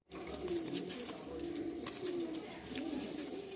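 Green Madrasi pigeons give soft, repeated low coos, faint and somewhat distant, over a light background hiss.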